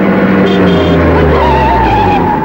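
A car skids to a sudden stop, a loud, close tire squeal with a harsh engine-like rumble running steadily for a couple of seconds, with no voices.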